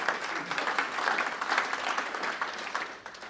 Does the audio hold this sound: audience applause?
yes